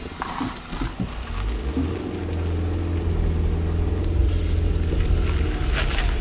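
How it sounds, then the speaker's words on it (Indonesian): A low MPV's engine pulls the car up a steep uphill road as a steady mid-range drone that builds and holds, recorded from inside the car. "Menurut Anda, bisa nggak sih mobil ini naik ke jalan tanjakan di depan itu?"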